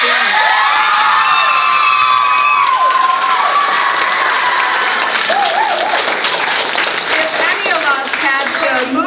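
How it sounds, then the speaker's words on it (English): A crowd at a school awards ceremony claps loudly and continuously, with scattered cheers and high whoops from children rising over the steady applause. "Please, a round of applause"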